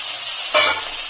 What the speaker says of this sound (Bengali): এখন আমি দিয়ে দিচ্ছি ক্যাপসিকাম।